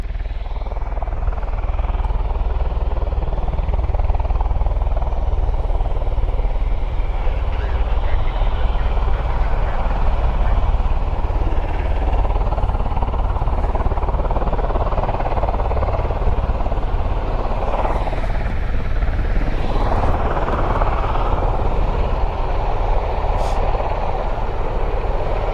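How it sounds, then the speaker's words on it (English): V-22 Osprey tiltrotor aircraft flying in at RAF Mildenhall, a continuous deep rotor and engine drone that swells and shifts in pitch as it passes, with voices faintly beneath. "our next Osprey that's coming in, it's certainly not going to be doing a fast fly through"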